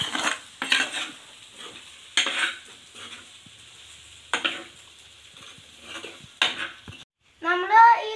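A spoon stirs a snail curry in a metal pot, making several separate scraping strokes with light clinks and a faint sizzle between them, plus a brief voice at the very end.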